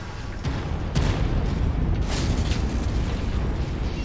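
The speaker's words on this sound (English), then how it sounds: "Just like watch how many missiles fly out of this." Short-range missiles fire from a mech in a video game, a dense, continuous barrage of booming launches and bursts with sharper pops near the start, loud and unbroken.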